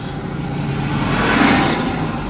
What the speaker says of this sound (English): And here comes my truck.